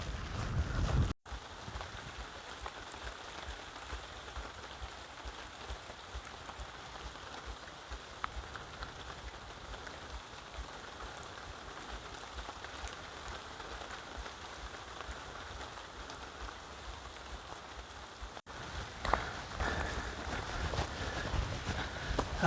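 Rain falls steadily on a grassy hiking path near Edale in England's Peak District, a dense, even patter that continues without letting up, close and fairly loud, with no talking.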